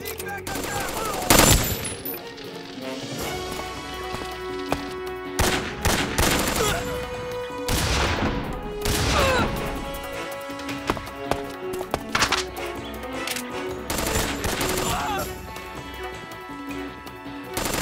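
Scattered gunshots and bursts from Metal Gear Solid effects, recreating a 1984 Terminator action scene, loud sharp cracks spread across the stretch amid orchestral music and sound effects.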